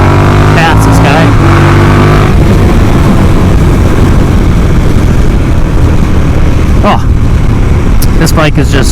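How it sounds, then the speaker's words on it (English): Motorcycle with stock muffler and catalytic converter removed, engine and exhaust droning loudly and close while riding, with wind rush over it and a rider talking throughout. "I have the stock muffler on this thing, and then it's just the catalytic converter is taken out, so it's just it just comes straight off,"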